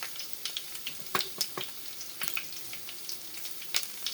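Mustard and fenugreek seeds fry in a ladle of hot oil for ulavacharu. The result is a soft, close crackle of quick pops and spits scattered over a faint steady sizzle.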